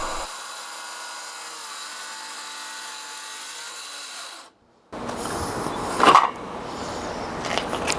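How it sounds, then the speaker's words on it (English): A power saw with a dull blade labors through an interior door with a steady, strained drone that cuts out abruptly, then gives way to scraping and knocking. "The saw is laboring, because I really need a new saw blade."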